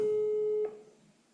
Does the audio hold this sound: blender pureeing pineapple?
no